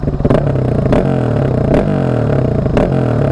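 KTM 690 SMC-R single-cylinder supermoto engine with a loose exhaust, revved close up: a heavy thumping idle broken by three quick throttle blips at irregular intervals, loud and gruff with mechanical clatter.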